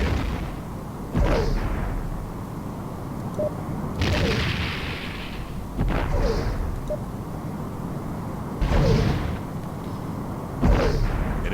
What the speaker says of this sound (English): Enemy ship is firing.